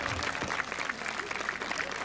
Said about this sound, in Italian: Credo che si meritino un applauso grandissimo